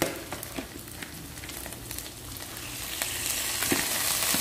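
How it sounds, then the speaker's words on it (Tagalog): Pork ribs dropped into a pan of already-cooked garlic, frying with a steady close sizzle that builds in intensity, with a few small clicks and stirring bumps along the way. "Ihulog na natin yung buto-buto natin."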